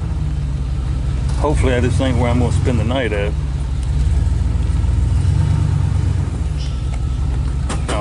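Steady low engine rumble from an old four-wheel-drive truck driving slowly out of the woods, loud and continuous from inside the cab, with someone talking over it.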